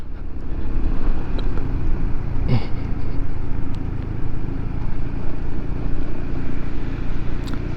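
A motorcycle without mirrors rides along, its engine giving a loud, steady rumble under continuous close wind and road noise, with a brief rising tone in the middle.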